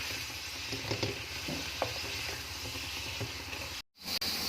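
Sliced green chilies and vegetables cooking in a pan, a continuous close sizzle and hiss with occasional light stirring clicks, then a brief sudden drop to silence near the end.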